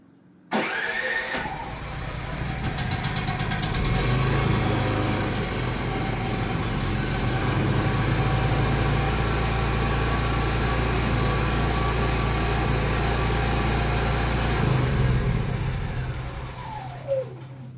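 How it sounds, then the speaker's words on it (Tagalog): A Philking inverter generator, one of the PK8000i or PK2300i models, started by remote control: it cranks, catches and settles into a steady, loud, even engine drone that runs for most of the stretch before winding down near the end. "So, i-start muna natin yung generator. Unahin muna natin yung remote control."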